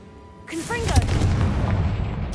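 A Confringo blasting spell in Hogwarts Legacy: a brief spoken call gives way to a close, heavy explosive boom that rumbles on for over a second.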